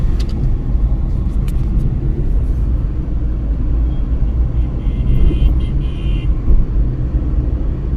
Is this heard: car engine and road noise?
yes